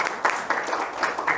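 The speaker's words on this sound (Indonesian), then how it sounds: "yuk kasih tepuk tangan buat Mas Kavi" Audience applause at a Bullionspot meetup in Bandung, a short burst of clapping from the crowd with soft, uneven surges, fairly close, with no speech over it.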